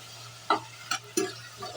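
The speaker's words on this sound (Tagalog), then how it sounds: "Nagisa na tayo ng kamatis, sibuyas, luya, bawang." Tomato, onion, ginger and garlic sauté in a pan, with a soft sizzle and a few short stirring scrapes over a low steady hum, close and fairly quiet.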